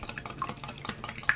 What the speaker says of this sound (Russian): Тщательно перемешиваем, чтобы все компоненты